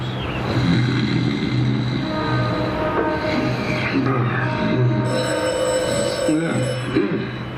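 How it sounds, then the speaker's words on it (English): A telephone rings in an old-time radio drama, its repeated electric bell pulses sounding in a steady rhythm behind speaking voices and other background sound. "The phone, if you please, Mr. Goodwin."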